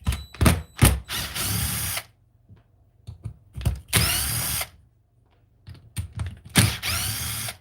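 An impact wrench drives screws into a servo on an RC car in several short, loud bursts of rattling hammering, separated by brief pauses and faint clicks.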